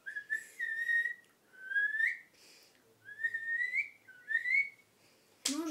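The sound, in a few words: person whistling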